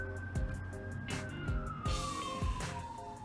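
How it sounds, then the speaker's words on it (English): Distant police sirens wail with a slowly falling pitch, heard steadily under faint background noise and occasional low thumps. "you hear the sirens in the background"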